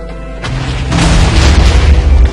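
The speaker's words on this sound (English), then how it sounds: "Watch the explosion." Explosion in Minecraft: after a brief quiet moment a loud, deep boom bursts in and keeps rumbling heavily to the end, close and alone with no voices.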